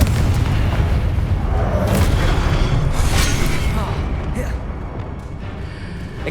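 A Confringo fire spell blasts in the Hogwarts Legacy video game: a loud, sustained explosive roar and rumble that slowly fades over several seconds.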